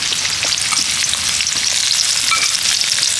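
Chopped onion hits hot oil in a kadai on a lit stove, producing a loud, dense, continuous crackling sizzle up close with no voices.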